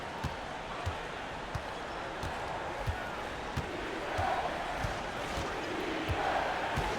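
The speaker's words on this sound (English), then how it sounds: "You hear the crowd." At an Oregon basketball game, a crowd murmurs and swells louder partway through over the regular thumps of a dribbled ball on the hardwood, sounding moderately distant.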